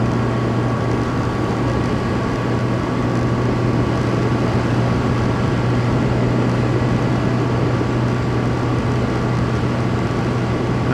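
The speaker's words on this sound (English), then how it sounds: "It does sound a lot nicer with the GR Moto exhaust on it." A motorcycle with a GR Moto aftermarket exhaust idles steadily nearby, a constant low throaty hum with no changes in pitch and no talking.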